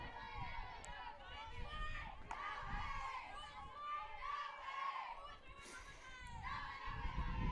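A crowd at a college softball game at Toppa Field, Salve Regina against Wentworth, murmurs at a distance, with children's shouts and chatter rising and falling. The sound stays faint and continuous, and voices mingle throughout.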